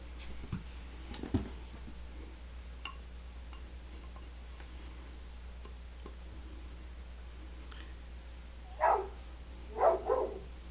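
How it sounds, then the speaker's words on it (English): A dog barks a few times in a nearby room, three distinct woofs near the end after a quiet stretch with faint ticking and clicks. "I'm sure you can hear that. It's my son's dog."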